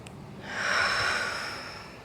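A single deep inhalation taken during a gentle yoga flow, swelling over about a second and then easing off as a soft, airy breath, close and alone with no talk.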